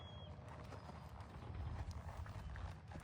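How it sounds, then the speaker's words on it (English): A horse in groundwork training steps over an obstacle, giving a few soft hoof clops on the ground close by with quiet background rustle. "Did you see how that horse walked over?"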